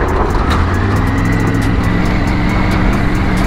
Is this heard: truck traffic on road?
yes